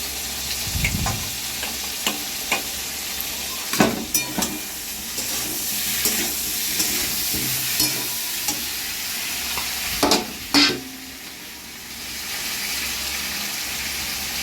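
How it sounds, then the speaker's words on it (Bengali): Pieces of pointed gourd sizzle in hot oil in a kadai while being stirred, a steady close frying hiss with intermittent spatula scrapes and a few sharper knocks against the pan. "এবার পটলগুলো দিয়ে দিচ্ছে কড়াতে"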